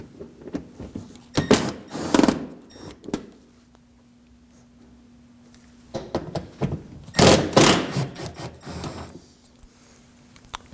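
Phillips head screws backed out of fender trim in the wheel well of a 2016-2023 Honda Pilot: bursts of scraping, ratcheting screwdriver work with a few knocks, separated by quiet pauses, close up and fairly loud.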